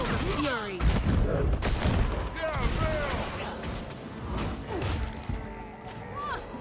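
Repeated pistol gunfire during a sparring match in the Guild Wars 2 video game, a rapid string of sharp bursts and thuds mixed with whooshing effects, with a voice talking over parts of it.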